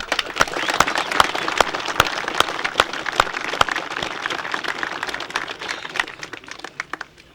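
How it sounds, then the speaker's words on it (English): Applause from a commemoration crowd, steady dense clapping with sharp individual claps standing out, fairly close and loud, gradually thinning toward the end. "I ask for your approval of that vote of thanks with a rousing round of applause."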